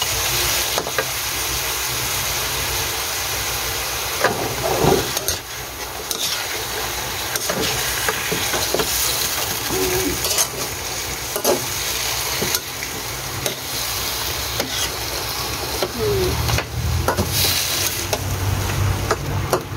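Pork hock fries with soy sauce in a pan for a Filipino paksiw dish, giving a steady, close crackling sizzle with occasional stirring clatter throughout, with no talking.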